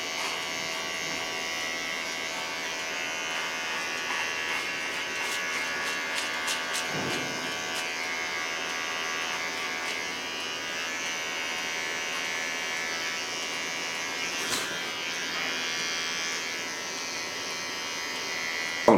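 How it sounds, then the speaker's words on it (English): A small electric hair clipper buzzes steadily through hair, a close, continuous high whine with slight shifts in pitch as it moves and a few faint clicks, with no talking. "Clean it with a small clipper."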